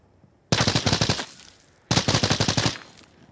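Two bursts of rapid automatic gunfire from the Arena Breakout Infinite shooter game, each about three-quarters of a second long with sharp repeated shots, close and loud, separated by a short pause.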